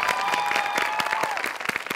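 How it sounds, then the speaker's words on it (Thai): Studio audience applause on a Thai talk show, a dense wash of many hands clapping continuously for about two seconds, with a steady tone and faint voices mixed in. "ปรบมือเลยเร็วเธอดี"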